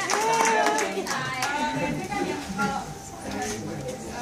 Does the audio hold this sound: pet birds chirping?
no